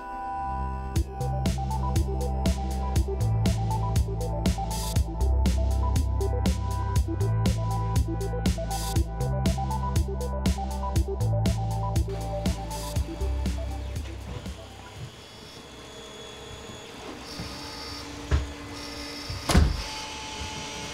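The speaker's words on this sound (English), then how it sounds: "There's 3 3D printers going on right now" Three 3D printers run at once in an artist's studio, rapid rhythmic stepper-motor whirs and buzzing tones with repeating ticks and clicks, the pattern loosening into scattered clatter and a sharp knock near the end.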